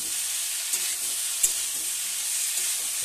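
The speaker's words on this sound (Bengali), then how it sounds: "সর্ষে আর জিরে বাটা দিয়ে ভালো করে নেড়ে নেব।" Mustard and cumin paste is stirred into fish curry with small rohu fish and drumsticks in a pan, a steady close sizzling hiss with a couple of faint spoon knocks.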